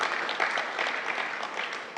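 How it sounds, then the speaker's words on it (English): Gathered audience giving a round of clapping for a named attendee, a brief continuous patter of many hands at middle distance, steady and unaccompanied by speech. "pikia makofi."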